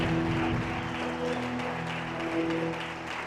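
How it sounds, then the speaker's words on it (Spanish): Church congregation in Tinaquillo, Venezuela applauding during a sermon, a sustained wash of clapping blended with held musical tones from instruments underneath. "Dale un fuerte aplauso a Dios."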